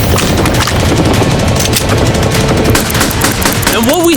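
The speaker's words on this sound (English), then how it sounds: "They just brought out the LMG." Sustained, loud light machine gun fire pours continuously into a cinder-block fortress built around a Lamborghini, dense rapid bursts filling the whole stretch with no gaps.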